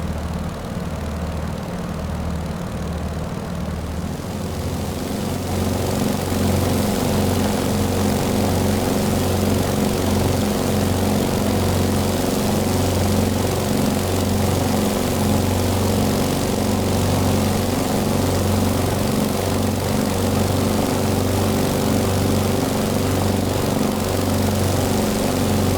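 The radial piston engine of a Beechcraft 17 Staggerwing drones steadily in cruise flight in Microsoft Flight Simulator, loud and continuous with a throbbing propeller beat, rising in level after the first few seconds, with no talking.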